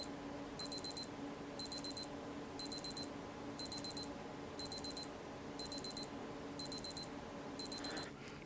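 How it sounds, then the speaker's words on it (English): A Casio G-Shock G-7800 watch (module 3163) alarm sounds as short bursts of rapid high-pitched beeps, repeating about once a second in a steady pattern over a faint background hum. "The alarm lasts for 10 seconds."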